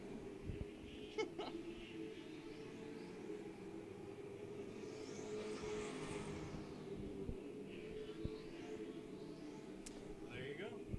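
Late model race cars circle Irwindale Speedway, their engines a faint, distant drone with one car swelling past and fading away midway.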